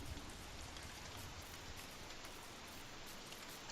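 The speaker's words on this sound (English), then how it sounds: "And now it's raining." Steady rain falls in the Don't Starve video game, a dense, even hiss of drops that holds at a constant level with no voices throughout.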